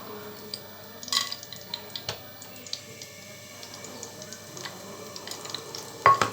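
Cinnamon, cardamom and cloves crackling in hot ghee, a soft, quiet sizzle broken by scattered small pops and a few utensil clicks.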